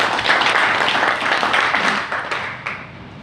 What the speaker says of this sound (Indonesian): Ya, tepuk tangan dulu untuk Bung Hafid.